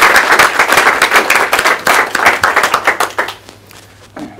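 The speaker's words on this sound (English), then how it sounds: "join me for a round of applause" An audience applauds after a presentation on innovation design in contemporary defence, brisk close clapping that thins into scattered separate claps and fades out, with a last lone clap near the end.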